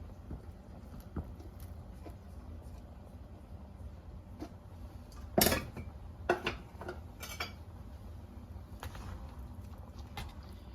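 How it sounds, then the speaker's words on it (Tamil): A spoon stirs a modak filling of grated coconut in a pan, giving soft, scattered scrapes and light clinks with one brief louder clatter partway through, close and quiet, with no talking. "இப்போ எல்லாத்தையும் சேர்த்து நல்லா கலக்கணும்"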